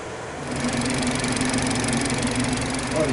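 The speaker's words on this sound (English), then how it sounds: "You started the engine." BMW G30 engine catching and settling into a steady idle after programming work, a dense continuous rumble with a faint steady hum, starting quieter and rising to an even level within half a second.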